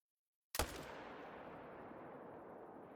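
A single loud rifle shot rings out while hunting in the game theHunter, a sharp crack followed by a long, fading rumble of echo across open terrain.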